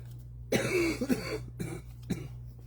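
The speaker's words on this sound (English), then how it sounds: "I haven't coughed all day" A few harsh coughs, close and fairly loud, with short pauses between bursts over a steady low hum.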